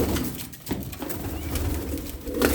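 A tumbler pigeon coos close by, steady and loud, with low throaty rolling calls running through the whole stretch and no talking.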